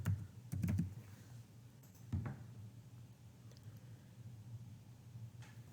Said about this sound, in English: And then you'll type your password.